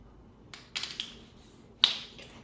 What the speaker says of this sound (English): The opening of a fresh bottle of rum.